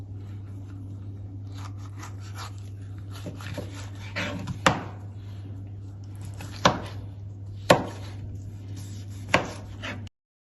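A knife chops salad vegetables for a grilled-food salad, giving a few sharp, separate thuds on a board about every two seconds over a steady low hum, fairly close and moderately quiet.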